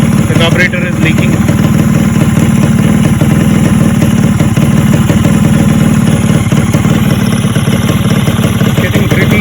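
A Yamaha RXZ two-stroke motorcycle, running without an air filter, idles loudly and steadily up close on its first start after a rebuild, a constant buzzing rumble with a voice talking briefly over it.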